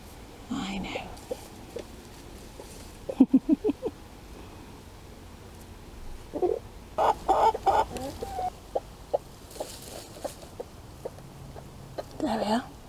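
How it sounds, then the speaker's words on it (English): Hens cluck in short bursts and soft clusters at close range, scattered across the stretch with pauses between, while a person speaks quietly over them. "There's another chicken."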